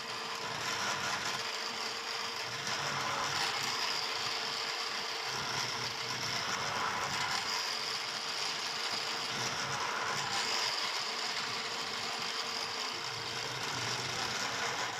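A wood mortising machine runs continuously in a woodworking workshop, a steady mechanical whir with faint rattling texture, heard at moderate distance and fairly quiet, with no talking.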